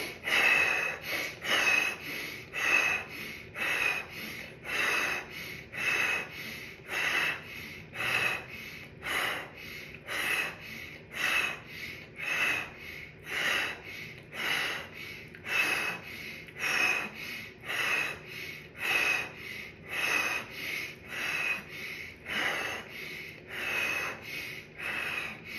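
Rapid, rhythmic fire-breath breathwork: a steady series of quick, forceful breaths in a regular pulse, close and loud, continuing without pause for the whole stretch.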